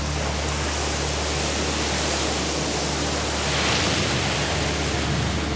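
Sea waves crash and roil along a Breton island coast during a storm, a steady loud roar of surf and foam with a swell building near the end, no voices.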